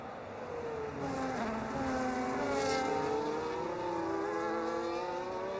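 Formula 1 race cars in a racing video game, at the Hungary circuit, scream past in overlapping high-pitched engine whines that rise and fall continuously, loud and constant with no talk.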